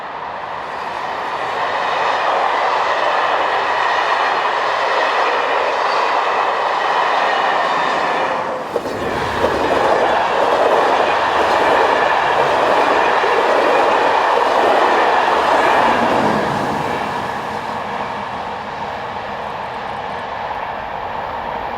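TGV high-speed train on the Nice to Genève service passing, a long, loud rushing roar that builds, surges sharply as it goes by, then fades away.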